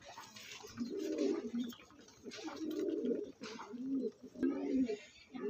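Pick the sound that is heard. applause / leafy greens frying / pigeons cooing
pigeons cooing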